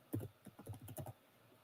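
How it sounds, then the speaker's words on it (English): Computer keyboard typing in a short burst of quick, close keystrokes, a cluster of clicks that stops after about a second. "now I'm typing. Let's write hello."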